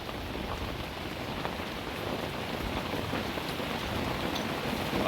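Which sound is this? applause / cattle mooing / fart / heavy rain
heavy rain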